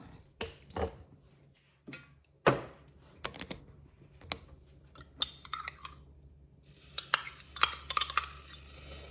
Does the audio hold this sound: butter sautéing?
yes